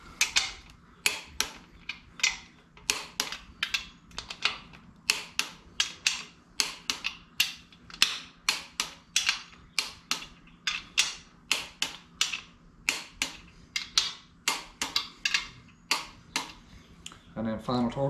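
A torque wrench tightens engine bolts on a 360 Magnum shortblock. Rows of sharp ratcheting clicks come in quick, even bursts, close and crisp, with short pauses between them, and someone talks at the very end.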